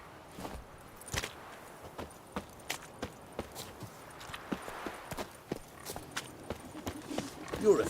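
Hooves of Roach, a horse in The Witcher 3 video game, clip-clopping at a steady walking pace, evenly spaced hoof clicks over a soft background for the whole stretch, with a voice speaking briefly.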